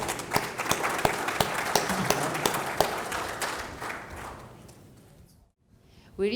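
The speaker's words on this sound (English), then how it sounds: "I would invite you to have a round of applause for the panel." An audience at a closing conference session applauds the panel with steady, distinct claps that fade away after a few seconds, and a voice comes in at the end.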